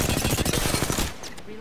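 A video game weapon fires a rapid, loud burst of evenly spaced shots for about a second, then cuts off into a quieter tail with a brief sharp sound, while a voice talks over it.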